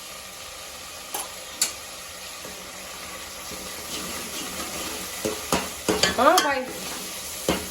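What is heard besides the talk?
chutney being stirred into sizzling chole gravy in oil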